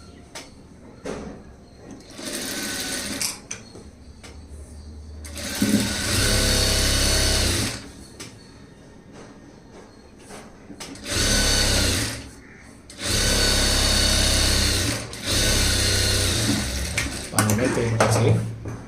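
A sewing machine top-stitches a blouse lining in several loud bursts of rapid whirring, separated by quieter gaps where a voice talks.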